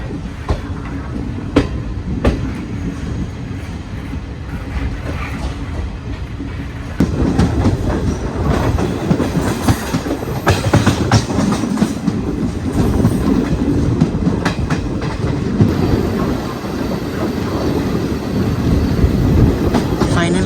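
A passenger train rolling through Karnataka toward Mangaluru, with a steady close rumble and a rhythmic clickety-clack of wheels on rail joints that grows louder and busier partway through, heard from inside the carriage.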